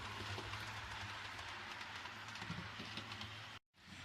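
A model railway Flying Scotsman locomotive runs along the track, a faint, steady low rumble with light clicking that continues almost without a break, briefly dropping out near the end.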